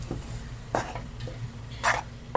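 A spoon scrapes through rice being mixed into oil in a pot for sweet zarda rice. There are several distinct stirring strokes over a faint sizzle and a low steady hum.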